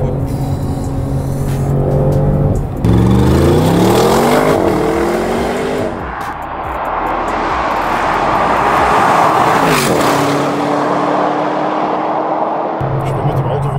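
A two-day-old new car on a test drive accelerates loudly with rising engine tones through several gear shifts, then settles into steady road and wind noise up close. A voice speaks in places.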